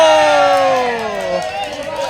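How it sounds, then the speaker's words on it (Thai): A large crowd of supporters cheers and shouts at a Thai sepak takraw-style match, a loud swelling roar that eases off over two seconds, with a commentator talking over it. "ดูครับกองเชียร์มาเยอะครับ ฝั่งนู้นครับ"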